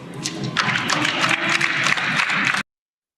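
Applause in the European Parliament chamber for German MEP Christine Anderson, a dense, steady burst of clapping from many hands that carries on for about two and a half seconds and then cuts off abruptly.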